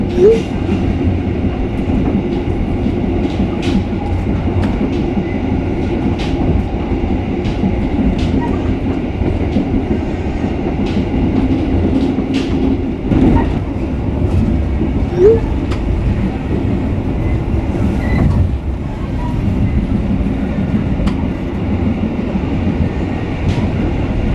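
KA Sibinuang passenger train running near Padang, West Sumatra, heard as a steady, loud rolling rumble with repeated clicking of wheels over rail joints throughout.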